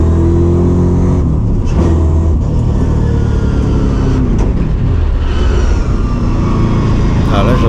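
A Dodge Charger driving on the road, its engine a loud continuous drone with steady road rumble close to the microphone, and no talk over it.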